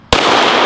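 A single sharp, loud gunshot from an STI competition pistol fired at an outdoor range, a sudden crack followed by a brief ringing decay.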